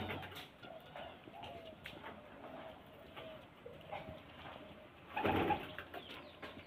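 Male pigeons in a home loft coo softly and repeatedly at close range, with a brief louder burst near the end that may be wing flapping.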